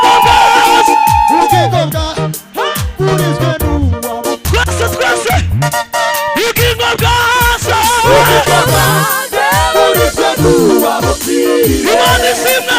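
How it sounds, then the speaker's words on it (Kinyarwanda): A crowd at a celebratory gathering shouts and cheers loudly, with high trilling voices warbling over one another in a dense, continuous wave of festive noise. "tuvugiriza impundu nyinshi"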